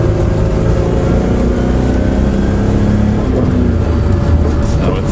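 A 1986 Lesharo RV, freshly fitted with new plugs and wires, drives on its first road test, its engine a loud, steady rumble with a faint whine on top, heard from inside the cabin.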